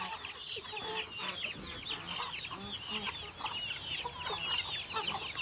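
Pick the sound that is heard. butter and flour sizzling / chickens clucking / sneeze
chickens clucking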